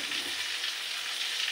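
Onion and large-cut pumpkin pieces fry in a pan, giving a steady, close hiss of sizzling oil throughout with no talking.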